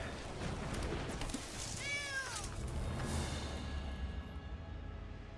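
A single short cat meow sound effect rings out in the Magic: The Gathering digital card game, a rising-falling tone heard once over a steady background of game music and ambience.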